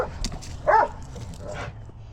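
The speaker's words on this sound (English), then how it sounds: "Just let the dogs bark. There's lots of barking dogs around." Dogs bark in a Texas lakeside neighborhood, a single moderately loud yelp or bark standing out against a faint background hum, with softer barking further off.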